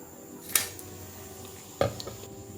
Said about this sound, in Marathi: आता मी पूर्ण ह्याचं तेल निथळून हे काढून घेतेय.